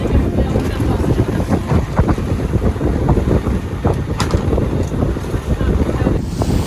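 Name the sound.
sailboat on the water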